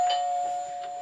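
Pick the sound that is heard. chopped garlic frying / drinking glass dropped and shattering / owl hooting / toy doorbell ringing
toy doorbell ringing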